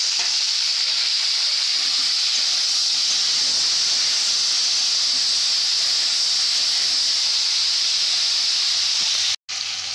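Potatoes frying in hot oil with tempering spices for a vegetarian dish, a loud steady sizzle and hiss that runs unbroken and close, cutting out briefly for a moment near the end.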